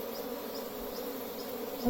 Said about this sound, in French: on peut voir des abeilles qui battent le rappel